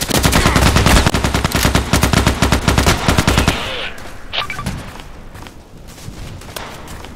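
A powerful weapon firing in the Contract Wars video game: a loud, rapid automatic burst of shots lasting a few seconds, then scattered fainter impacts and thuds.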